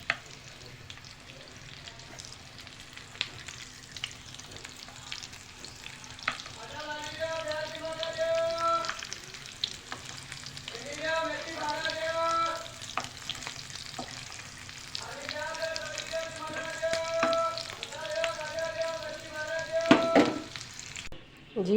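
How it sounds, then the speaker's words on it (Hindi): Potato and cabbage cutlets frying in hot oil give a soft, steady sizzle with crackling bubbles. Light stirring or utensil sounds come through at moderate volume, and a few tonal chirps surface intermittently. "आप ये चेक करें कितने अच्छे से क्रंची से ये फ्राई हो गए"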